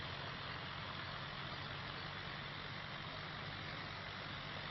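Tractor ploughing a field in Farming Simulator 25, a steady low engine drone with a constant rumble running unbroken throughout, fairly quiet and with no talking.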